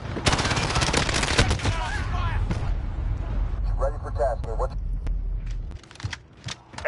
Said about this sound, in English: Shit! I'm taking fire!